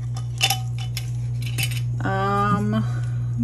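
Blue resin is stirred in a cup, a few light clinks and scrapes of the stirrer against the sides over a steady background hum.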